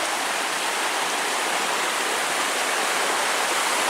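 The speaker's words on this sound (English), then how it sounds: "This should be the Onion River" The Onion River on the Superior Hiking Trail, a steady, loud rushing of stream water, broadband and continuous with no voices.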